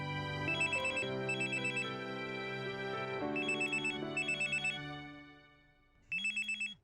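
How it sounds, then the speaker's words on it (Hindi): A telephone rings in an office with a melodic electronic ringtone in repeated bursts, pausing briefly between rings, fairly clear and prominent with no talking. "अमी की स्कूल से फोन"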